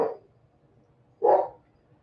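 A dog barks twice, short sharp barks about a second apart, with quiet gaps between and no talking.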